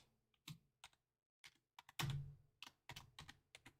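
Typing on a computer keyboard, close clattering keystrokes in uneven bursts with short pauses, including some heavier presses, with no voices.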